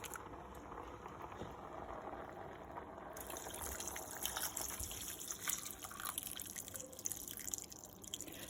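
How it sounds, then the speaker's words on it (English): Water poured into a pot of rice and dal for sambar rice, a steady splashing, trickling stream close by that runs throughout with no pauses. "here I am adding some more water"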